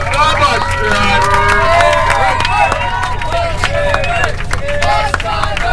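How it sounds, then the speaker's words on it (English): A crowd at a bus award ceremony gives a loud round of applause for the bus driver, clapping mixed with cheering and lively chatter that continues steadily throughout. "let's give a huge Bus 3 round of applause to Eric, the bus driver"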